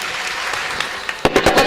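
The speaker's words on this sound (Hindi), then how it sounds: "फुटकर में तालियां बज रही हैं" A kirtan audience claps loosely at first, and then the applause swells into a short, louder burst near the end.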